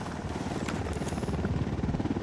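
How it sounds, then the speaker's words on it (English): Helicopter rotors thump in a fast, steady chop as the aircraft approaches in the Ghost Recon Wildlands video game, loud and close and growing slightly stronger. "Helicopter, get down."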